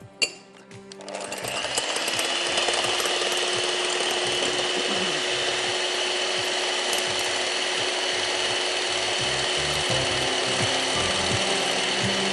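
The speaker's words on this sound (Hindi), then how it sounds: "इसलिए हमेशा मैं पहले सफेदियां बीट कर लेती हूँ" An electric beater whipping egg whites in a clean bowl for chocolate mousse: a click as the motor starts, then a loud, steady mechanical whir and rattle running continuously and close up.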